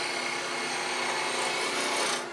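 Woodturning gouge riding the bevel and cutting wood on a lathe while turning a Christmas tree ornament, a steady continuous shaving hiss that ends abruptly as the tool comes off, heard alone at close range.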